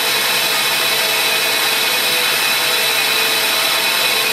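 Grinding on the shank of a metal countersink bit, throwing sparks: a steady, dense abrasive hiss and whine that holds at constant loudness throughout, close up, with no talking.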